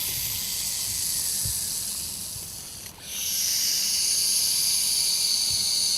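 A recorded snake gives a long, steady, airy hiss that carries on loudly for several seconds, dips briefly partway through, then swells back to full strength.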